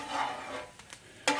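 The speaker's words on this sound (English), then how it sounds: "And I just use some oil and some butter to saute these up" Soft sizzle of food sautéing in oil and butter in a pan for chicken fried rice, with light stirring scrapes and a sharper clink near the end; no voices.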